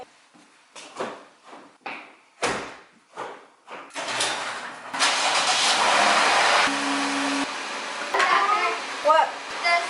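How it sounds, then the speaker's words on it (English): A car is started after a run of sharp knocks and door or drawer clunks. The engine catches and settles into a steady idle that runs under a few bits of talk. "I'm gonna go turn on the car"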